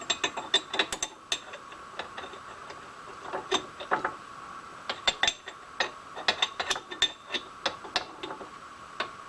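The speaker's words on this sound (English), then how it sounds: "All right, so tighten up the tailstock." A lathe tailstock is cranked tight, giving clusters of sharp metallic clicks and ratcheting ticks in irregular bursts, close and distinct with quiet gaps between.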